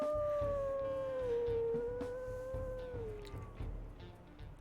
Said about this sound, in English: So kind of a higher pitched howl for that one.